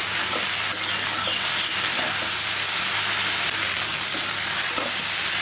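Sliced okra frying in a pan: a loud, steady hissing sizzle throughout, with occasional soft stirring scrapes and crackles, close up and uninterrupted by speech.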